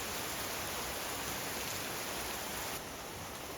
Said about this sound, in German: Es war teilweise schön draußen zu sein und dem Regen und dem Sturm zuzuschauen